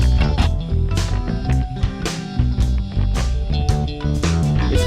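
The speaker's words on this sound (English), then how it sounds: "If I turn on the compressor, it sounds like this." Full music mix run through a Logical4 SSL-style bus compressor, dense and steady with punchy kicks and bright cymbal hits in a continuous loud groove, no talking.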